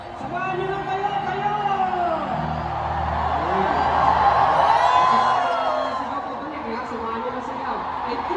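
Crowd noise at a concert during a tour kickoff: a dense, loud wash of many voices cheering and shouting, swelling in the middle and then easing, with nearby talk and laughter mixed in.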